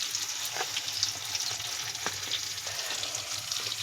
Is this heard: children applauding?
no